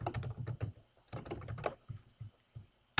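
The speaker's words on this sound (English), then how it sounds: "you can click on this and type in a description if you really want to" Fingers typing on a computer keyboard, a quick run of close, light clicking keystrokes, a brief pause, then another flurry and a few scattered taps, with no talking.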